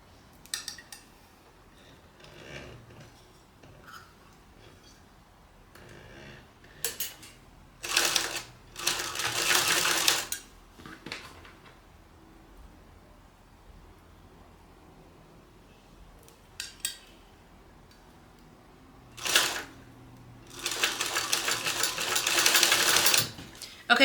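Sewing machine basting fringe clutch pieces together, running in several loud bursts of rapid stitching separated by pauses with soft handling noises.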